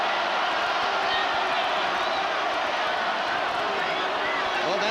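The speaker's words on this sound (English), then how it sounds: "The crowd is now chanting for Tarver." A boxing crowd at a Jones versus Tarver fight chanting for Tarver, a dense, steady roar of many voices filling the arena throughout.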